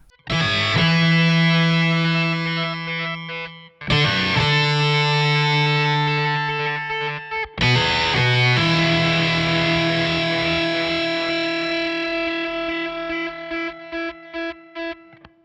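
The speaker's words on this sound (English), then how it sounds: "that's using the multiband tremolo" A distorted electric guitar plays sustained chords through a Source Audio Ultrawave multiband tremolo placed before the distortion, a rhythmic pulsing, wobbling volume effect, loud and up close, in three separate passages.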